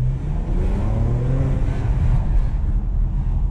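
A Porsche Macan Bi-Turbo SUV's engine and exhaust give a deep, loud, steady roar close by as it drives over a bumpy road, with a rumbling low drone throughout and no talking.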